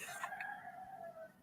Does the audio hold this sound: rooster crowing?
yes